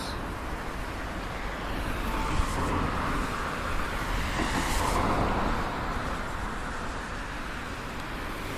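Steady traffic roar on a rain-wet three-tier bus road in Nagoya after a typhoon, with cars and buses passing in a continuous broadband wash that swells slightly midway, no voices present.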